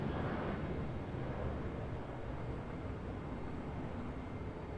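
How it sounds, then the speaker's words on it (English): A helicopter passes overhead near Auckland Airport, making a loud, steady, broad rotor and engine roar that holds at full volume throughout, with no talking. "Full noise helicopter coming over."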